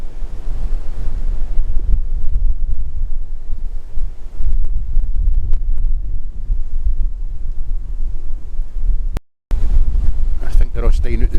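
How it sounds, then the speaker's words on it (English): Strong wind gusting outdoors, roaring steadily as loud low rumble against the microphone for most of the clip, with a brief dropout near the end before the gusts resume. "That wind's getting wild."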